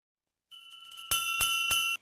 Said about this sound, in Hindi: लालची मालकिन जोर जोर से घंटी बजाने लगी।